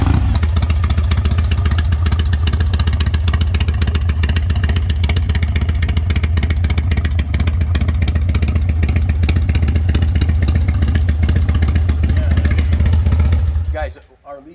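A Harley-Davidson CVO FXR motorcycle rumbles loud and close as it is ridden, a continuous throbbing V-twin exhaust with a pulsing beat that holds steady before cutting off abruptly near the end.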